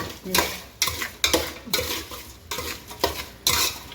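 Salted cucumber is stirred in a little oil in a pan, giving a brisk rhythm of utensil scrapes about twice a second over a close, crackling sizzle.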